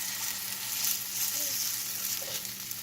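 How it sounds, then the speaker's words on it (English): Arepas frying in butter in a pan, a steady close sizzle and crackle with faint stirring or pressing noises throughout, no talking. "press them down a little bit so that they can start cooking."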